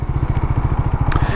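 A KTM 390 Duke single-cylinder engine thrums with a rapid, even pulsing beat while riding, loud and close with no talk.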